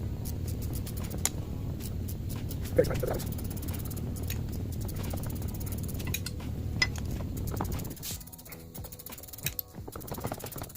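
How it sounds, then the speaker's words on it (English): A ratchet wrench turns bolts on the 6-speed manual transmission of a 2000 Ford F-550, its fast clicking pawl running under a steady background wash with a few sharper metallic taps. "now I can use ratchet wrench."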